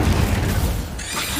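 An Incendio fire spell cast in the video game Hogwarts Legacy: one brief, loud, roaring burst of flame that fills the whole moment, dense and booming with no voice.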